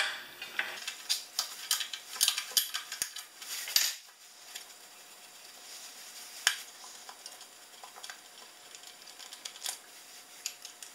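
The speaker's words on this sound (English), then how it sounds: "Taking that off with a 1/2 inch wrench." A 1/2 inch wrench works loose the carburetor bowl nut on a Craftsman 6.5 pressure washer, giving close, light metallic clicks and scrapes in irregular bursts, with small taps and clinks against a quiet background.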